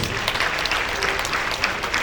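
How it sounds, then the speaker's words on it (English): Brief round of applause for a guest of honor at a surveyors' association launch luncheon in Nigeria, steady crowd clapping at moderate loudness throughout. "I think it deserves a round of applause."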